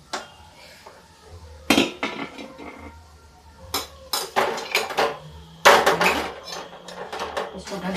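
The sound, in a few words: lid placed on a pot of vegetable curry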